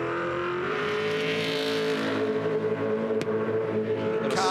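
V8 Supercars race cars at Barbagallo Raceway during a 2004 championship race restart, engines droning loudly with rising revs and a layered steady roar, a brief sharp click partway through.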